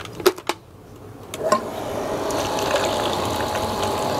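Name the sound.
booster water pump converted to well pump, drawing water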